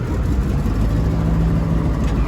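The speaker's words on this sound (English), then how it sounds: "The tractor ain't running too good right now." An Allis-Chalmers AC 440 tractor engine runs rough while pulling a cart in fifth gear, a loud, steady low rumble with a faint uneven hum, heard close by.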